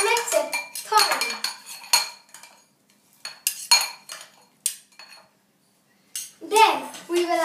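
A spoon scrapes and clinks against a bowl as salt and chaat masala are stirred together, bright metallic taps and rattles in uneven bursts separated by quiet pauses, close up.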